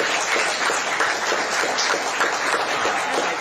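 People at a city council meeting clap for a retiring chief financial officer, a steady, moderately loud round of applause from the chamber that continues evenly for a few seconds.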